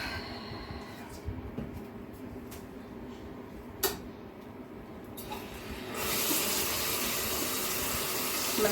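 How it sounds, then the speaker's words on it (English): Water runs steadily from a tap while hair dye is rinsed out of hair, a continuous hiss that grows louder and fuller partway through, with a brief clatter before it. "I'm gonna try rinsing some of the dye off of it."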